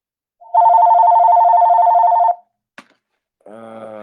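A telephone rings loudly and close in one sustained electronic trill of about two seconds, followed by a brief click and then a voice beginning to speak.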